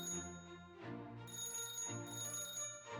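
Telephone ringing in an animated countryball cartoon, a repeated electronic ringtone pattern with a couple of bursts, fairly soft and heard on its own with no talking over it.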